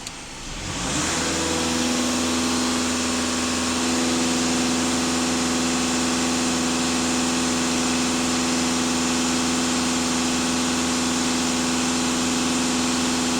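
A VW Passat B8 2.0 TDI EA288 diesel revs at full throttle, rising from a quick start into a loud, steady high-rpm drone that holds for the remaining seconds, with no voices over it.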